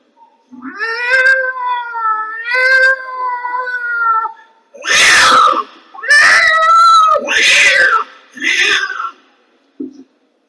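A human voice imitates two cats fighting: drawn-out yowling meows followed by a burst of harsh screeching caterwauls, loud and close.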